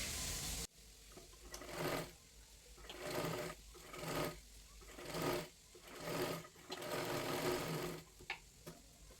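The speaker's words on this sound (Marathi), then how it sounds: "आता ह्याच्यावरती पुन्हा एकदा आपल्याला एक डबल शिलाई मारून घ्यायची आहे" Sewing machine double stitching a katori blouse, running in repeated bursts of rapid needle chatter with brief pauses between, close and steady, with no talking.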